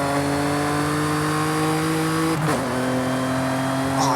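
A Jaguar XE S V6 engine in Forza Horizon 5 drones at steady revs, then dips briefly during a gear change and climbs again, a smooth and fairly plain engine tone.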